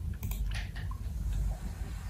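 Soft, quick keystrokes on a computer keyboard come in a light irregular patter, faint and close, with no voices.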